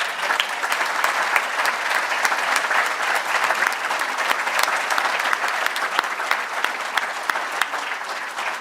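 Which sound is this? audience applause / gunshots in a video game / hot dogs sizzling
audience applause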